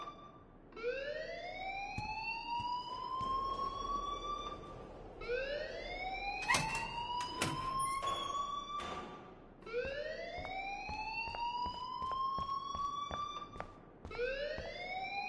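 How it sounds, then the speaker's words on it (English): An alarm in the video game Life is Strange wails in repeated rising sweeps, each lasting about four seconds, steady and fairly loud, with scattered clicks and knocks in the background and no voices. "please turn off that alarm since that's your job."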